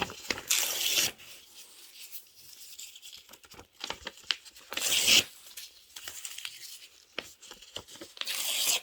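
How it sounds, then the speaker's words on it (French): The edges of a sheet of paper being torn in several short ripping bursts close to the microphone, with quieter rustling and handling in between. "vous déchirez les bords"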